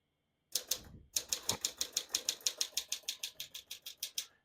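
A 1952 Smith-Corona Silent portable typewriter is typed on at close range: a steady run of crisp key strikes at an even rhythm, roughly five per second, after a brief pause, with no talk.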